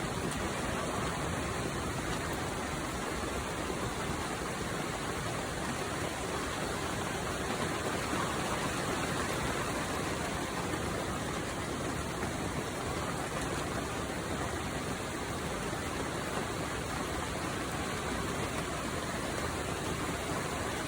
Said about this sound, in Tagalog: May bagyo kasi ngayon mga ka-farmers kaya sigurado maghapong ulan na naman to.